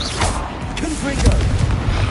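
Confringo blasting spell in Hogwarts Legacy going off as a booming explosion, a few heavy low thuds and crackles in a busy battle mix with some voices over it.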